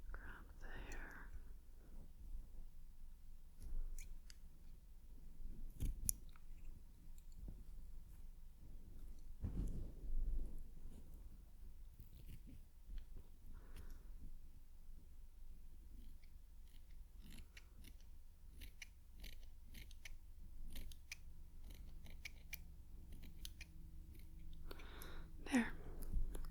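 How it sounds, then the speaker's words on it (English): Scissors trim hair in a quiet ASMR setting, with a few soft snips and clicks scattered among close whispering and faint handling noises. "I should be doing a little trim before we leave"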